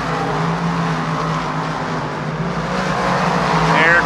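Dirt track race cars roar around the oval at Lernerville Speedway, a loud, sustained engine drone with revving and some tire noise, while an announcer calls the race over it.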